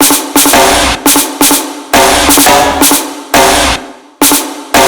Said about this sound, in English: So it's playing this snare, and then this snare at the same time in the layered channel.